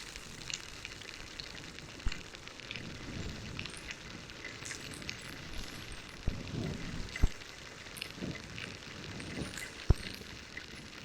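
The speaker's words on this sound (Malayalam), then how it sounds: "നല്ല മഴ, രക്ഷയില്ലാത്ത മഴയാണ്" Heavy rain comes down on a solo trip in Idukki, Kerala, a soft broadband wash with scattered sharper drips and taps, fairly quiet and without speech.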